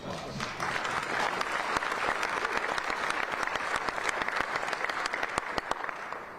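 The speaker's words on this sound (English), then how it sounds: "I think that deserves a round of applause." An audience at a city mayor's state of the government address applauds, dense sustained clapping from a crowd that swells quickly and holds steady for several seconds.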